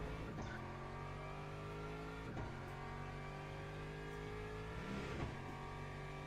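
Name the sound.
car engine revving in the racing video game Le Mans Ultimate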